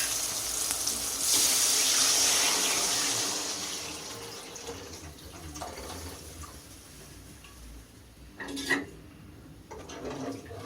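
Tamarind broth pours into a pot for fish curry, a rushing watery flow loudest early then tapering off, with a brief splash or clatter of the vessel near the end; no talking.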